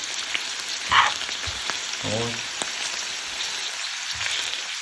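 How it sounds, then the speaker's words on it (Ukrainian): Sarcoscypha mushrooms fry over a low flame toward a golden crust, a soft continuous crackle and sizzle with a few light clinks of a utensil, close up and without speech. "на маленькому вогні обжаримо до золотої скоринки разом з грибами"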